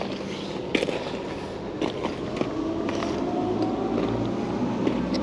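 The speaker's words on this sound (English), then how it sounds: "There's a tractor coming over." A tractor crossing a bridge over a trout and grayling river, a low steady engine rumble that builds gradually, with scattered clicks and knocks from the riverbank nearby.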